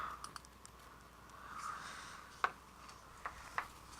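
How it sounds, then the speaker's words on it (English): A few sharp, isolated computer keyboard key clicks, close and fairly quiet, spaced irregularly over a soft background hiss with no talking. "And I just hit a button on my keyboard."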